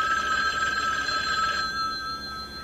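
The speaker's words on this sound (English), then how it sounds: "That's when the telephone started ringing." A telephone rings with a bright, continuous electronic trill, close and clear, then cuts off partway through, leaving a faint hum.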